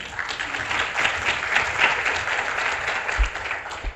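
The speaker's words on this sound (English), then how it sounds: "Cecilia is right here, and she deserves a round of applause, too." An audience applauds a council member at a leadership talk, with steady, dense clapping sustained at moderate loudness and no voices over it.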